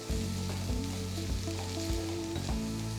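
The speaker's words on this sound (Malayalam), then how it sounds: "വെളുത്തുള്ളിയുടെ ഇഞ്ചിയുടെയൊക്കെ പച്ചമണം മാറുന്നവരെ ഒന്ന് വഴറ്റിയെടുക്കുക" Garlic, ginger and green chilli sizzle loudly in a pan while a spoon stirs them, giving a continuous frying hiss broken by regular low knocks from each stroke.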